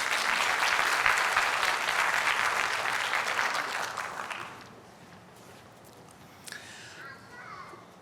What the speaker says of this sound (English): Let's have another round of applause for our Hoover High Lows.